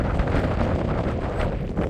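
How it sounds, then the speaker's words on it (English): Steady mountain wind roars and buffets across the microphone at Lassen Volcanic park in Northern California, a constant rushing noise with gusty swells and no voices. "Wind just flowing through those mountains,"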